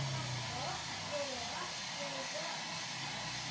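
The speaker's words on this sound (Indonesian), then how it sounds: "Ini udah terdengar desis-desis air." Nankai electric kettle heating water, giving off a steady broadband hiss with faint gurgling tones underneath, close and continuous while a person talks nearby.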